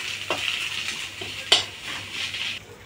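Leaves fry crisp in oil in a pan with a soft, steady sizzle and occasional scraping stirs, a few sharper clinks of a utensil against the pan standing out close by.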